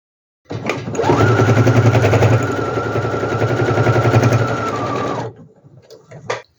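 A sewing machine stitches fabric for a geometric-print bag in a steady, rapid mechanical chatter lasting about five seconds, loud and close, then stops, followed by a few faint handling clicks.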